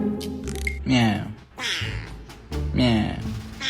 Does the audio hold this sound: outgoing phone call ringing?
no